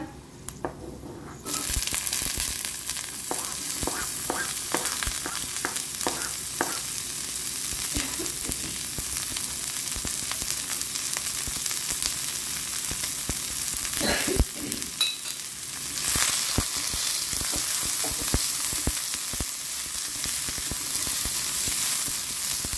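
Onion frying in mustard oil: a loud, steady sizzle with scattered crackles and pops that rises abruptly after a short quiet start and carries on without any talking.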